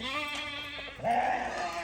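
A sheep bleats close by in Ghana, a wavering drawn-out call followed by a second louder bleat, with no talking.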